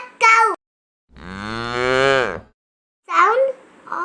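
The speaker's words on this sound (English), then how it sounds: "Sound of a cow is moo." A cow gives one long, loud, clear moo, framed by a child's short spoken words just before and after.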